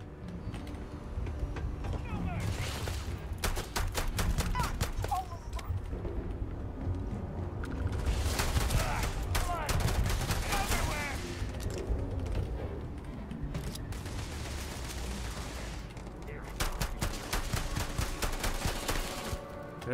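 Repeated gunshots ring out in Starfield combat, rapid clusters of sharp reports recurring across the stretch over a steady low background, with a player talking now and then.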